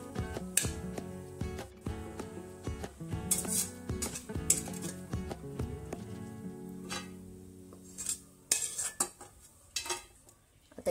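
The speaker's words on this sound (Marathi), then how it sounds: "आता एक खोबरं एका प्लेट मध्ये मी काढून घेते।" Spoon scraping roasted coconut from a pan onto a plate in a home kitchen, with clinking metal-on-metal and dish knocks in an irregular rhythm, close and fairly loud, no talking.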